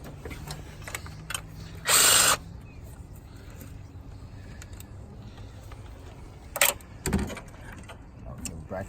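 A power tool whirs in two short bursts while removing a 10mm nut from the throttle cable bracket on a Chevy 3.1/3.4/3.5 liter engine, with quiet clicks and handling noises in between, close-up.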